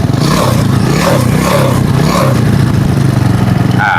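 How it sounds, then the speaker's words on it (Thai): A motorcycle engine runs loudly and steadily throughout, its pitch rising and falling with a few revs, plus some mechanical clatter, during a charging system check. "เดี๋ยวเราจะทดลองเร่งเครื่องยนต์ดูนะครับ"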